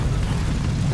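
A tank shell strikes an enemy turret ring in War Thunder, a brief, dense, rumbling explosive boom that fills the whole second, loud and close.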